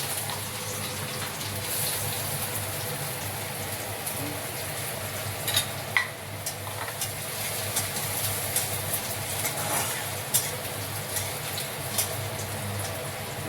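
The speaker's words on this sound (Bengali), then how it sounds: "তেলটা কড়াইয়ে গরম হয়ে গেছে, রসুন আর আদা একসঙ্গে দিয়ে দিলাম" Garlic and ginger sizzle in hot oil in a wok, a continuous close frying hiss with scattered pops and a few louder stirring clinks, and no voices.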